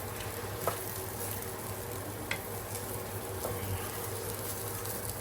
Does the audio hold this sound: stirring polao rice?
yes